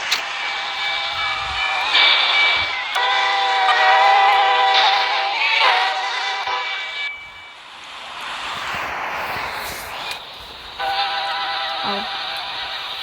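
Video game train, a loud, close engine drone layered with sustained horn-like tones, rising and shifting through the first half, fading briefly and then returning with more droning tones near the end.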